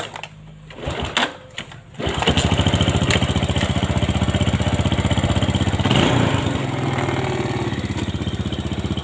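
Yamaha Jupiter Robot motorcycle engine starting and then idling with a loud, steady, rapid putter that continues evenly to the end; the engine has an ignition coil fault and a burnt spool.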